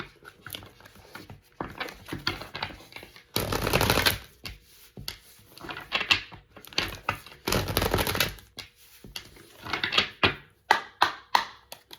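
A deck of tarot cards being handled and shuffled, with papery riffles, flicks and soft slaps in uneven bursts, close by, with two louder flurries of shuffling.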